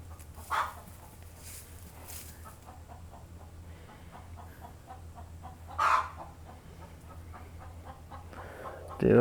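A chicken squawks and clucks in a farm setting, a few loud bursts standing out over a low steady background hum, with faint clucking between them.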